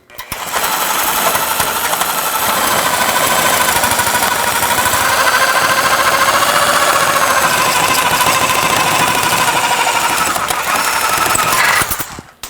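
A power tool cuts through a front lower control arm bolt and its sleeve on a 2003–2009 Toyota 4Runner. It makes a loud, close, continuous grinding whine that holds steady for about twelve seconds, then stops abruptly.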